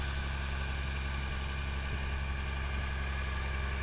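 Steady, even idle from a 2016 Jaguar F-Type engine just after start-up, a continuous close rumble with no revving or voices.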